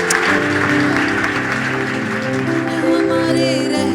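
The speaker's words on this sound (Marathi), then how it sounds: "Give a big clap to Jesus." A church congregation at a Monday discipleship meeting claps together for a few seconds, steady and full, while a sustained musical tone plays beneath the applause.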